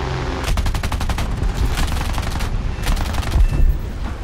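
A rear gunner's machine gun fires in loud, rapid bursts with short pauses between volleys, set over the roar of aircraft in a War Thunder air battle.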